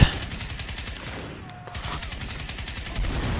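Rapid automatic gunfire from the shooter game Crysis rattles loud and close in dense bursts, with a brief lull midway before the steady volley resumes.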